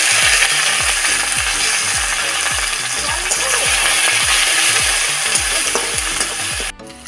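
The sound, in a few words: cauliflower curry with ginger frying in oil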